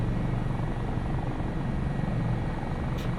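An AS365 Dauphin helicopter in the flight simulator MSFS2024 gives a continuous low rotor and engine drone with a steady buzzing vibration, close and unbroken, with no talking.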